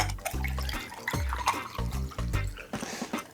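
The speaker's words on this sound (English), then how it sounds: "We're going to pour it in this cute cup that I prepared." Spiced hibiscus sorrel drink flavoured with ginger, cloves, cinnamon and allspice is poured into a cup, giving a close, bubbling liquid gurgle in short uneven bursts over about three seconds.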